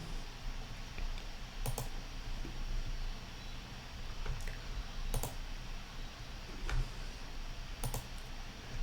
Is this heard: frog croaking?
no